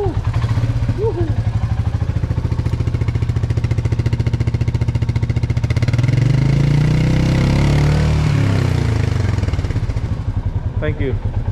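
A Royal Enfield Bullet motorcycle engine thumps at a close, loud idle, rising in a rev around the middle and settling again, with voices talking over it.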